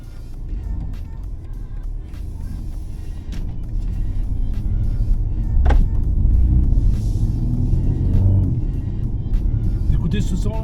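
A BMW M235i xDrive Gran Coupe with 306 hp and an eight-speed gearbox hums steadily from inside the cabin while driving, its engine note swelling slightly partway through, with someone talking over it.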